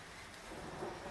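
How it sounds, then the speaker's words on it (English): Real outdoor rain blended with artificial rain forms a faint, steady wash of patter and low rumble, with no voices. "You're hearing a compound of real rain, because I have a second studio microphone pointed outside, and fake rain"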